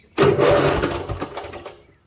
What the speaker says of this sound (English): As you can see, the engine turned over, so it's a solenoid.